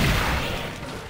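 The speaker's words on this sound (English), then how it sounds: "Lots of explosions going on right now." Explosions in a Naruto fighting video game battle, a loud, low boom with a dense rumbling burst that decays over about a second, with no talking.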